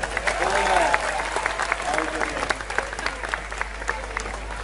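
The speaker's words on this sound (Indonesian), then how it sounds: "Tepuk tangan." An audience at a heated debate between a public figure and students at Amikom applauds, a dense wash of clapping with a voice and a whistle-like tone audible over it.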